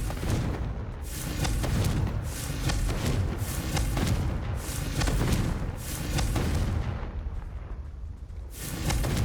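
Booming, rumbling explosions from the Confringo spell in Hogwarts Legacy repeat in loud, continuous blasts with no breaks, dense and heavy throughout.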